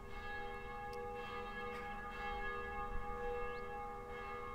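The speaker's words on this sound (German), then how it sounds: "Die Glocken läuten." Steady ringing of church bells in the video game Black Mirror, with sustained overlapping tones, fairly loud and continuous, with no voices present.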